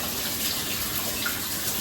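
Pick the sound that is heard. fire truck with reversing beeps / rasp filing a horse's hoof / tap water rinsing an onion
tap water rinsing an onion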